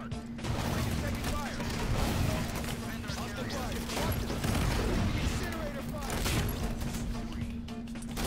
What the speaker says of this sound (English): Incineration cannon is so damn good.